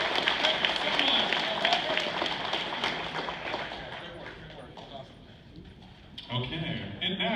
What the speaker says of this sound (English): Let's give a big round of applause one more time to Dark Sparkle Rose Unicorn.